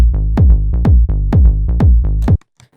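A tech house kick drum thumps in a steady four-on-the-floor pulse under a simple Serum synth bass, both loud and upfront, pumping together for over two seconds before cutting off abruptly to near silence.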